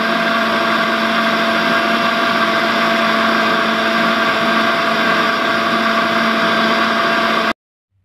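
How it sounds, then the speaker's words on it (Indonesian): An electric blender grinds spices with galangal and lemongrass, a loud, steady whirring roar that runs continuously for several seconds and then cuts off abruptly. "Jadi alangkah baiknya kalau kita blender saja ya guys."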